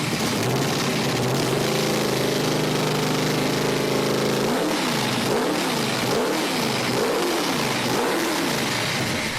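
A classic car's 572 cubic inch 9.4-liter Hemi V8 engine idles loud and rough, then revs in repeated rising and falling surges, close and continuous with no talk.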